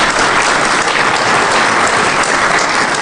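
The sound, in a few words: audience applause after a zero-day exploit demo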